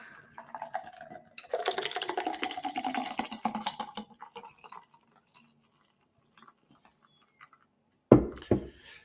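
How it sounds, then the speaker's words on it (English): Delicious beer poured out in a sustained foamy, gurgling rush for a couple of seconds, then a quiet stretch before a sharp close clatter near the end; no talk. "after I pour this delicious beer"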